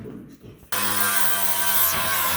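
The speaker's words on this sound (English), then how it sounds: "So we're going to use a plasma cutter." A plasma cutter slicing metal on a Chevy C10 during an axle flip and drop spindle job starts abruptly after a quiet moment, then holds a loud, steady hissing roar with a droning hum underneath until the end.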